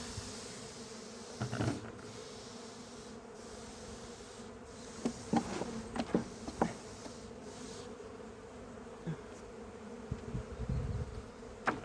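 Honeybees buzz steadily around an opened beehive on a warm late-October day, a continuous close drone with occasional louder passes of individual bees.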